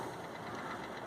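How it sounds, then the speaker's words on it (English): A tractor engine in Farming Simulator 22 running down after shutoff, a steady low mechanical drone with a faint knocking texture, fairly quiet and alone. "Look how long it takes for the engine to stop spinning."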